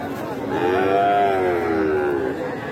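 Small bulls at the Boda cattle market in Panchagarh give one long, drawn-out moo lasting about two seconds, loud and close, with a faint crowd murmur beneath.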